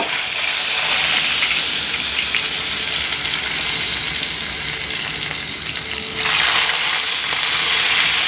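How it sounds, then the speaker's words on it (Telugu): Raw banana pieces fry in hot oil, a steady loud sizzle and hiss holding through the whole stretch with a brief dip before it swells again. "నేను ఆల్రెడీగా ఆయిల్ వేసుకున్నానండి. అరటికాయ ముక్కలన్నీ వేయించేసుకుందాం."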